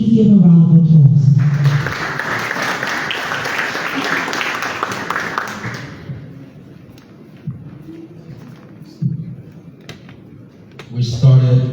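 An audience at the official launch of MFDP's five-year strategic plan bursts into loud, sustained applause for about four seconds, framed by a speaker's voice before and after the clapping fades.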